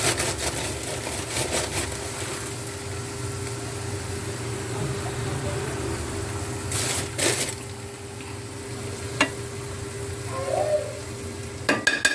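Wheat flour roasting in ghee in a pan gives a soft, steady sizzle with faint scraping from stirring and a few brief clinks, fairly quiet and close.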